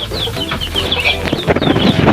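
Chickens cluck and chatter loudly up close inside a brooding coop, overlapping calls from several birds filling the space.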